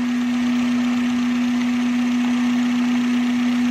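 A Honda City automatic with a VTEC engine idles while warming up, giving a steady, continuous close hum with a strong even drone and no change in revs.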